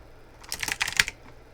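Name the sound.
typing on a computer keyboard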